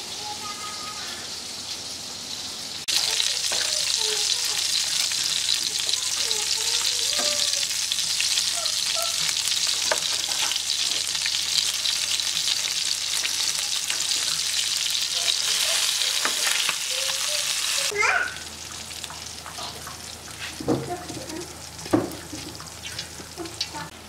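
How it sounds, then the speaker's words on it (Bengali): Raw small fish fry in hot oil in a wok in a village kitchen, making a loud, steady, crackling sizzle that runs for about fifteen seconds and then eases to a quieter spatter with occasional clinks. "তেল কিন্তু কড়াইতে দিয়ে দিছে এই যে কাঁচা মাছগুলো রান্নার জন্য"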